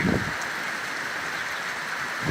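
Rain falls steadily in a village in Sivas, Turkey, a continuous close hiss of drops on the ground with no talking.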